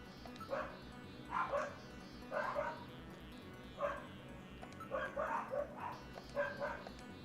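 Several dogs next door bark and yip in scattered bursts, moderately distant, repeating irregularly over a steady low background hum.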